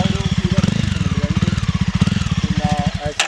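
A Jawa motorcycle idles with a loud, rapid, even thumping exhaust beat from its silencer, close by, and a brief rev near the end.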